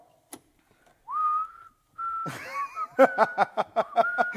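A recorded child's whistling played back on a home recorder: a sustained tone, a short break and another held note, then a run of quick chirpy pulses in a steady rhythm, close and clear with no talk.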